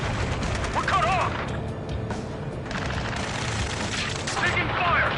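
Sustained rapid gunfire and explosions from a PS4 video game battle, dense and continuous, mixed with shouted game dialogue and other combat noise.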